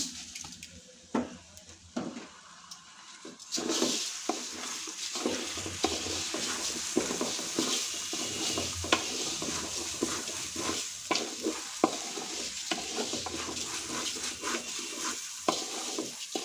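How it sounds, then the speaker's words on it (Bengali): Rice sizzles and scrapes as it's fried and stirred in a pot for chicken biryani, with steady frying hiss and repeated clattering strokes; no talking. "তাই চালটাকে সুন্দর করে ভেজে নিতে হবে একটু সময় নিয়ে"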